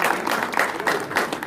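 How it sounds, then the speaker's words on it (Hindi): An audience claps in welcome at a gathering, a dense, steady patter of many hands held close and loud through the brief moment with no voices over it. "स्वागत करो ताली बजा"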